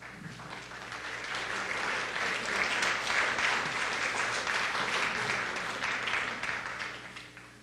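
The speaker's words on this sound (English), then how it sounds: "Slowing down the applause will speed the process up." Applause at a town financial meeting swells to a sustained roar of many hands clapping, then tapers off toward the end.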